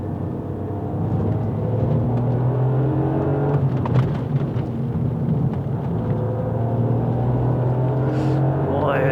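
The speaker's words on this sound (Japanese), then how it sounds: "とても3気筒とは思えないよねこの車ね。" A Toyota GR Yaris three-cylinder with a Cusco LSD and chassis bracing drives on a mountain pass road, its engine droning and revving steadily inside the cabin as someone talks over it.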